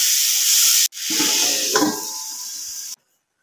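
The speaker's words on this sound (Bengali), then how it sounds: "এটা দিয়ে ভালোভাবে ভেজে নেব।" Ridge gourd and potato with onion and salt frying in a pan, a steady sizzle with a short break and some stirring scrapes before the sound cuts off.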